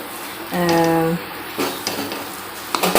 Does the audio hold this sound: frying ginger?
yes